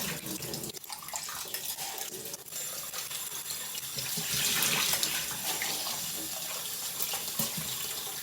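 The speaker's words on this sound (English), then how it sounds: "Always wash your rice" Rice is washed in a pot under a running kitchen tap: a steady, close rush of water that swells briefly midway, with no clear talk.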